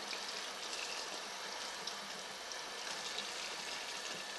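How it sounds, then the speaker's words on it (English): Cold water running from a kitchen tap over raw fish in a pan, a steady, even hiss and splash that continues without pause, fairly soft and with no talking. "Just run the fish under the cold water a little bit."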